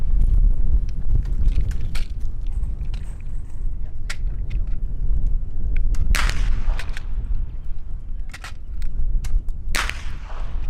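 A Ruger Wrangler .22 LR revolver fires outdoors in Texas, with several sharp, light cracks spread irregularly over heavy, rumbling wind noise on the microphone.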